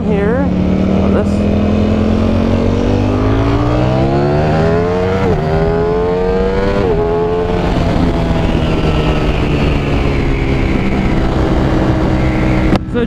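A 2021 Ducati Streetfighter V4 motorcycle roars while being ridden, its engine pitch climbing through the gears with shifts, loud and close over steady wind rush.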